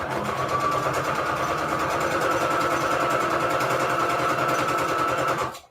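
A sewing machine stitches a frame onto a paper-strip Christmas index journal card, a fast even mechanical whir with a rapid regular needle pulse running steadily for several seconds, then cutting off abruptly.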